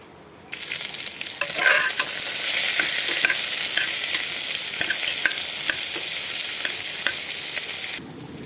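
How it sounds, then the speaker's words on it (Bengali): Onions drop into hot oil with bay leaf and crushed spices in a pressure cooker and burst into a loud, close, continuous sizzle with occasional stirring clicks, then cut off abruptly. "এবার আমি পেঁয়াজটা দিয়ে দিচ্ছি।"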